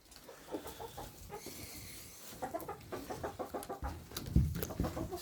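Flock of chickens clucking and squabbling in a close, busy chorus at feeding time on a ranch, with repeated short calls overlapping throughout and no talking.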